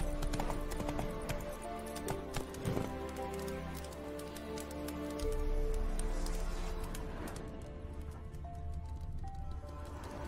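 Horse hooves clip-clopping in a steady, fairly close rhythm in The Witcher 3, set against a dense bed of game music and ambient sound that holds at an even level throughout.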